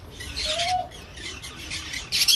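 Pigeon calls at a racing loft as a bird returns from a 500-mile (800 km) race: a short near squawk and scattered chirps over faint background rustle, with no talk.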